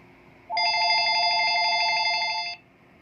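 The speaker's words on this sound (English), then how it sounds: "And another phone call." A telephone rings once with an incoming call in a repair shop where a Dodge Ram no-crank fault is being fixed; the electronic ring is loud, steady and lasts about two seconds, then stops, with no talking.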